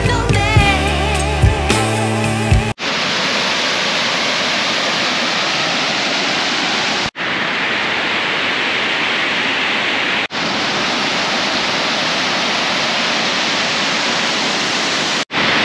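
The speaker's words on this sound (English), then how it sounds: "I can hear the sound of water flowing, and Google Maps says there is some horseshoe shaped falls here" Steady, loud rush of water pouring over a horseshoe-shaped waterfall near Johns Hopkins University, a continuous broadband roar after a brief burst of other sound at the start.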